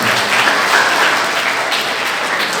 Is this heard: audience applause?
yes